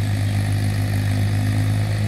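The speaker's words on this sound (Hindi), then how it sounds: "यह है फोर्ड 3600 जो कि कम से कम 91-92 मॉडल है ये ट्रैक्टर" A 1991–92 Ford 3600 tractor, about 47 HP, running steadily while ploughing a field, its engine producing a loud, close, even diesel drone throughout with no speech.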